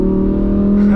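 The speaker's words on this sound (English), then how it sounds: "you're able to downshift so high up in that RPM range to really be able to get like maximize your power out of here" Car engine revving high in the RPM range during a downshift on a track, a loud, steady close-up drone with a strong low hum throughout.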